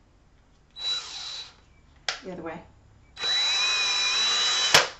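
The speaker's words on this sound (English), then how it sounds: "And then drill it in" A cordless power drill drives a screw in to mount a window treatment rod, whirring in two loud sustained bursts with a short break between, while a person talks briefly in between.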